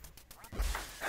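Ducks quack in a hunting video game, a few short calls rising out of low rumbling game sound, moderately loud and with no talk over them.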